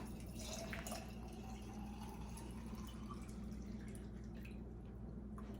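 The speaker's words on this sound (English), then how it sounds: "you're going to take some water and fill it up to this bottom lip" Tap water pours into a glass jar of dry beans for pressure canning, a quiet, steady trickle with faint splashing that runs throughout, with no voices.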